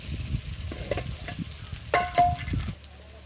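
Onions fry in a pan, a low sizzle broken by a few soft stirring scrapes and one louder burst of scraping near the middle, all close by and without talk.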